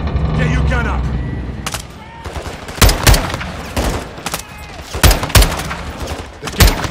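Gunfire in the video game Call of Duty: Modern Warfare II, loud sharp shots and short bursts cracking repeatedly over a busy battle mix, with voices shouting beneath it.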